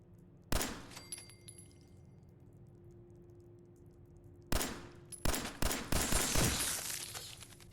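A player's gun firing in Fallout 4 survival mode inside Vault 111: one sharp shot near the start, another about four seconds later, then a quick run of close, loud shots over a low steady hum.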